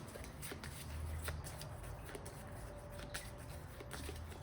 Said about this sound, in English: Give this a quick shuffle real quick.